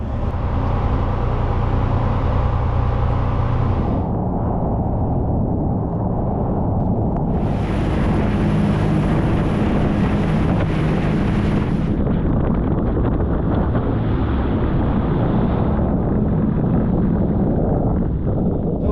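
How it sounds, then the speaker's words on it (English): A brand-new Shannon class RNLI lifeboat runs on its port engine alone during sea trials, a loud, steady engine roar mixed with wind and rushing water that shifts in tone over the stretch. "we're doing single engine running, and we're doing the port side first, so we've got slightly higher RPMs now because it's working a lot harder"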